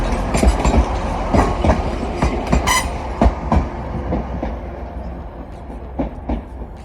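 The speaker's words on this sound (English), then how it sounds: "A very empty train on its way to Liverpool." An empty passenger train bound for Liverpool passes through a busy city-centre station, its wheels clattering over rail joints in a steady run of clicks and thumps beneath a continuous rumble, with faint talk briefly in the background.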